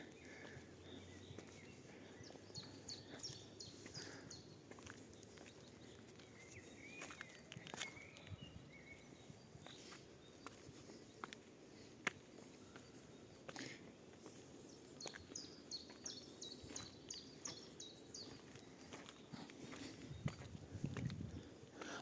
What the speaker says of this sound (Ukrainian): І чути співи пташок.